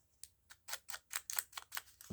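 A paper cupcake liner crinkles in a quick series of about eight crisp, rustling bursts, close and fairly quiet, with near silence between them.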